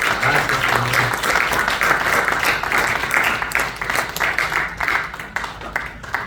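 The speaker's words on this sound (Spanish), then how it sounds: "¿cuántos le pueden dar un aplauso al Señor?" A church congregation applauds through a Sunday service, steady sustained clapping from many people filling the room, dense and continuous without pause.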